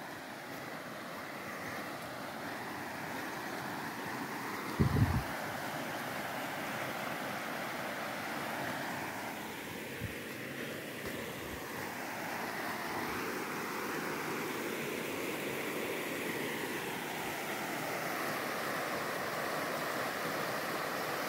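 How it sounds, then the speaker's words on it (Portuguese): Steady broadband rushing of the flooded Rio dos Postos in the Bahia backcountry, Brazil, churning over rocks, a constant roar with one sharp thump near the start and faint bumps later. "Ali tem umas pedras, por isso que ele faz esse barulhão."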